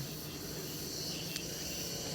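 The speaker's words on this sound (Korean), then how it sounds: "날씨도 좋고 매미 소리도 들리고" A steady, dense buzzing drone of insects, like cicadas singing continuously in the background without a break.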